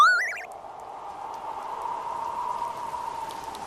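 Steady rain falls in a continuous, even hiss at moderate loudness after a brief squeal at the start, with no voices over it.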